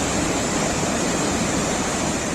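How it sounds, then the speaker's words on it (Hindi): A fast-flowing river in flood in the Doda area, heard as a loud, steady, dense roar of rushing water with no pauses. "यहाँ नदी का प्रवाह बहुत तेज है"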